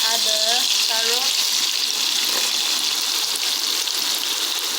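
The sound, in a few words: carrot added to a frying pan, sizzling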